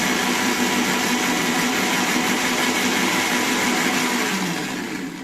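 An electric grinder whirs loudly and steadily while grinding poppy seeds with green chillies into a paste, the noise close and continuous before tapering off at the end.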